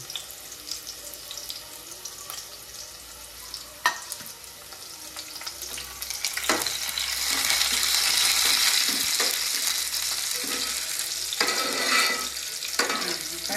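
Garlic and curry leaves fry in hot oil while tempering a spice mix for a Konkan fish dish. A soft sizzle swells into a louder, crackling fry with stirring clatter, close and without talk.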